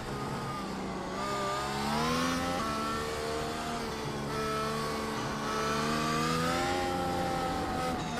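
A 1,000-horsepower race car engine in iRacing, a sustained high-pitched whine rising and falling through gear changes, loud and close with no talk.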